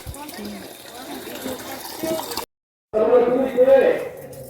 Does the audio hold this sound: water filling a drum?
yes